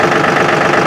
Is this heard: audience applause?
no